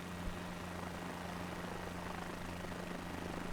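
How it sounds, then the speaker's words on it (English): A life flight helicopter passes overhead, heard as a steady, low, throbbing rotor drone that stays faint and even for a few seconds with no voices over it. "And that is a loud helicopter."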